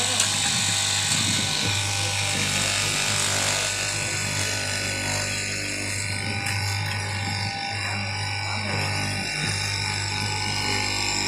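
Fabric being cut by hand with a very sharp blade in a garment factory, a continuous buzzing machine drone filling the room while someone talks over it.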